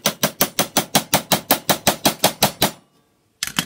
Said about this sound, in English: we're going to take the awl, and we're going to take our block of wood, and we're going to hammer a hole into it